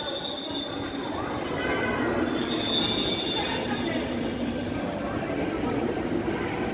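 Metro rail train at Uttara Central station in Dhaka, a continuous rumble of rail transport with faint high wheel squeal drifting in and out, heard at moderate distance as a steady wash of noise.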